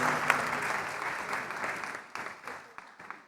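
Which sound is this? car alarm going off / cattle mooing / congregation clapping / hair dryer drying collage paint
congregation clapping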